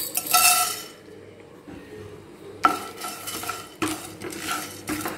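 Whole fennel seeds, cinnamon, cloves, cardamom and star anise dry roasted in a pan for a homemade chicken chukka masala, stirred with a spoon. Close scraping and rattling strokes come in bursts, with a louder clatter partway through.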